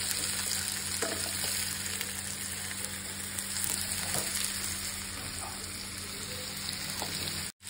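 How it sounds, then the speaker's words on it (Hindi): Potatoes frying in a pan with a steady, close sizzle and occasional stirring clicks, then cutting off abruptly at the end. "इसमें डाल देते हैं अपने आलू।"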